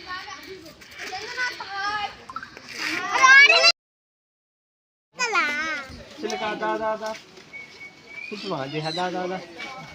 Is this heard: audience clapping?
no